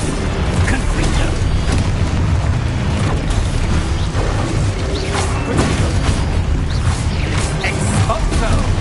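Loud, dense crash of magical blasts and booms from Confringo fire spells cast in the Hogwarts Legacy video game, a continuous roar of impacts with a voice calling out over it.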